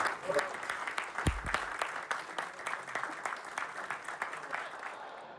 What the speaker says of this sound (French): je vous demande non pas un clap de fin, mais simplement des applaudissements de fin de ces belles masterclass